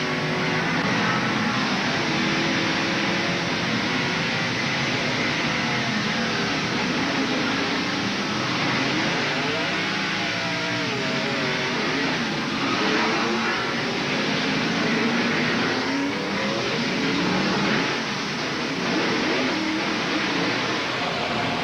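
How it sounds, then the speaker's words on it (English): Terry Labonte's NASCAR race car, caught on in-car audio at Sears Point Raceway in 1994, roars with a loud continuous engine drone that rises and falls as the throttle is floored during a spin. "We could hear Terry Labonte nail the accelerator as he was in the middle of the spin, trying to get the car to go on around"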